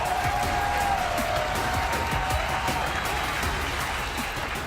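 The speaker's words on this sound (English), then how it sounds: "Ghost Gaming takes down Echo Fox 2-0, and this crowd erupts." An esports arena crowd roaring and applauding after Ghost Gaming beats Echo Fox 2-0, a dense, continuous wash of cheers and clapping filling the hall throughout.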